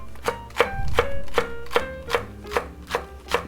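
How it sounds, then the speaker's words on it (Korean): A knife finely slices green onions on a cutting board for a mushroom and tomato rice bowl, giving about nine crisp, evenly spaced chops in a steady rhythm, close and clear with no talking. "그냥 송송 썰게요"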